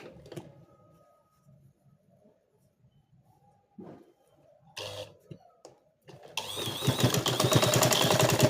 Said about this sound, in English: So I'll just stitch it down.